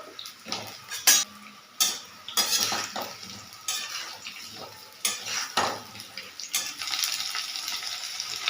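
Potatoes are tipped into a pan of hilsa fish head curry with Malabar spinach, bringing a run of sharp clinks and clatters of utensil against cookware over a faint background hiss, with irregular bursts spread throughout.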